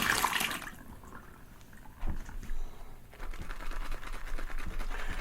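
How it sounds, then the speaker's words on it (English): Wet, soft squelching and sloshing as soap is worked into a lather with water, louder at first and then settling into a low, steady wash. "So let's lather."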